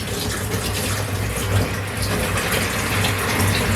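Tap water gushes steadily into a tray of wheatgrass seeds for rinsing, a loud, close, continuous rush with no pauses.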